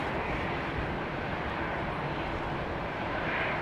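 Jet aircraft with Trent XWB engines at London Heathrow Airport give a steady broadband roar, moderately distant and unbroken, with no voices.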